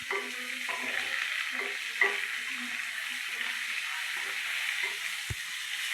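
Onion, curry leaves and green chillies fry in hot oil, a continuous close sizzle broken by stirring scrapes and a sharp utensil knock near the end.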